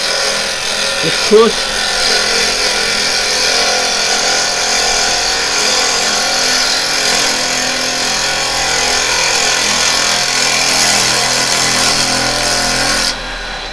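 A woodturning gouge cuts gently across a spinning workpiece on a lathe, giving a steady, continuous broadband shaving hiss throughout, with the lathe running underneath and a brief word spoken early on.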